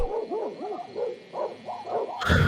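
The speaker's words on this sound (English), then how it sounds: "Dog's barking." A dog gives a rapid series of yelping, howling barks with rising and falling pitch, close and loud, ending in a sudden burst of noise.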